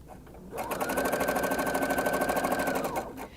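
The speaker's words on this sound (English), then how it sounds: "I'm going to do a little decorative top stitching" Sewing machine running decorative topstitching along a wrap-dress seam, a rapid even clatter of stitches starting after a brief pause, holding steady and loud, then stopping near the end.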